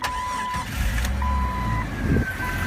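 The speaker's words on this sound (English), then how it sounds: "Go ahead and start the vehicle real quick." A lifted Jeep Cherokee Sport XJ turns over and its engine catches, a close, loud rumble with a steady electronic chime ringing over it.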